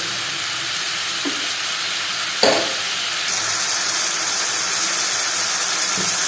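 Water poured into frying masala for a crab curry, a loud steady steam hiss with a sharp burst partway through as the liquid hits the hot oil, then a continuing boiling rush.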